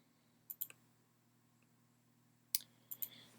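Computer mouse clicks at a desk, two quick pairs of sharp, close clicks separated by a pause, then a final few, over a faint steady hum.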